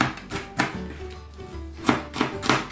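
An onion chopped on a cutting board with a knife, giving clusters of sharp close knocks with short pauses between them.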